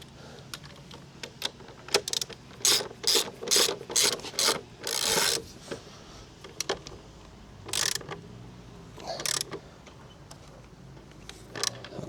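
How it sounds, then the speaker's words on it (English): A ratchet tightens the axle nut on a 2026 Honda CB125F motorcycle, giving close, loud bursts of rapid clicking pawl strokes in a repeated rhythm with short pauses between them, and no talk. "Now we can lock this nut."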